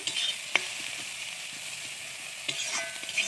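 Food seasoned with salt and turmeric is stirred in a frying pan: a soft, steady hiss of sizzling with a couple of sharp spatula clicks, quiet and close, with no talking.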